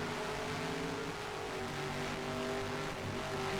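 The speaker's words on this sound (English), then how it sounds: "And crossing the stripe, a very solid lap from the 18 of Grayson Getz" Simulated NASCAR stock car engines from the NR2003 racing game hum steadily on the Watkins Glen road course, a constant, fairly quiet motor drone with shifting harmonic pitch and no voices.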